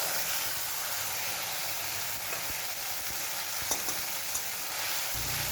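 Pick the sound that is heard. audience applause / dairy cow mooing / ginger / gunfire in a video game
ginger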